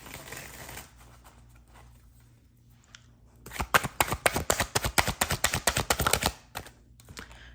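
Tarot cards are shuffled close by in a quick riffle of rapid crisp clicks lasting a few seconds, after a quiet stretch with faint room noise.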